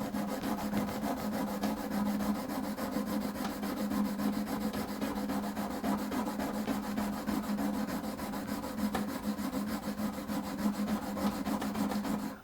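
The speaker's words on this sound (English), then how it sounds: "Let's sharpen." A printmaking carving tool being sharpened on a stone, a steady close scraping rub that continues evenly throughout with no speech.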